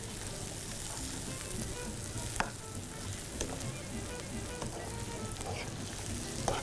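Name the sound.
onion frying in a pan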